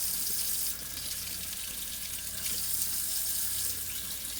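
Steady running warm tap water splashing into a sink for washing dishes, a continuous bright hiss with no talking, holding constant throughout.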